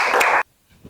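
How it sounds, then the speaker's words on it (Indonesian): A short burst of classroom clapping for a student group, a dense patter that cuts off abruptly partway through, leaving near silence with a faint murmur. "beri tepuk tangan dulu untuk kelompok"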